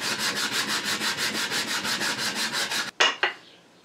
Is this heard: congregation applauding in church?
no